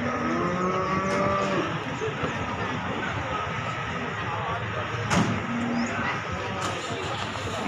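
Large Limousin cattle at the Jatirogo cattle market in East Java, with a few lowing moos near the start amid busy market noise, a sharp knock partway through and voices talking throughout.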